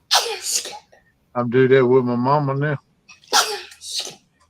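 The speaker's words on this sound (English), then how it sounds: "Baby was sneezing." A baby sneezes twice, with a sharp burst at the start and another near the end, and a person's voice carries on between them indoors.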